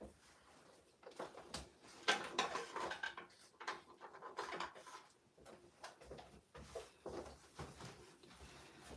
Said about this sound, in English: So let me pull those blender pins.